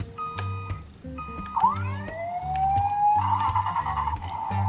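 A toy ambulance siren wails with rising, electronic tones over a rhythmic, beeping backing tune, loud and close, with no voices.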